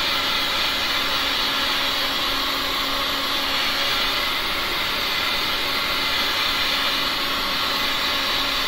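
A heat gun blows steadily over a pink and green resin pour, a continuous airy roar with a faint whine, even and unbroken throughout.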